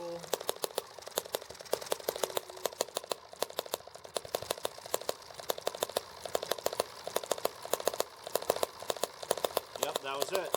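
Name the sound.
small engine starting and idling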